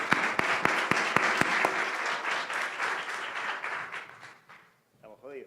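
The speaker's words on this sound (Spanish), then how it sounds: "Un aplauso a ellos." An audience at an Argentine wine conference applauds, starting with a few sharp individual claps that swell into a full round of clapping, then fading away to near silence before a voice begins to speak.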